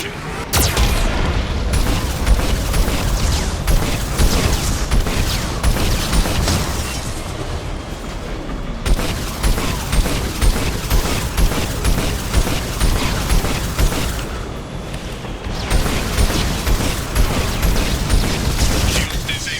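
Heavy explosions and mechanical clanking from a Geth cannon attack in the Mass Effect video game, loud and continuous with dense booming bursts throughout, with no talking.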